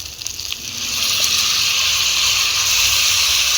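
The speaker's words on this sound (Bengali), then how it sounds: "মশলাটাকে দিয়ে ভালো করে সবজিগুলো ভেজে নেব।" Cauliflower and potatoes frying in a pan with cumin paste and ginger paste, a loud, steady sizzle and hiss that swells after the first second and keeps going without pause.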